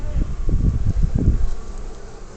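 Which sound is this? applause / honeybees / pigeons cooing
honeybees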